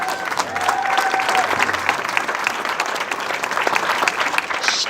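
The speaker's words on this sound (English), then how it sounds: "Could you give a round of applause to Laura John?" Audience applause at an outdoor walk celebrating refugees and immigrants, a steady burst of clapping from a crowd lasting about five seconds with a few faint cheers mixed in.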